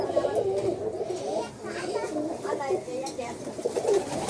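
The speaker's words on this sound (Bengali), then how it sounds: "এই যে কবুতর এখানে বসে রয়েছে।" Pigeons on a small backyard chicken and pigeon farm coo in soft, repeated low phrases, fairly close, with a steady murmur of other birds and faint background activity throughout.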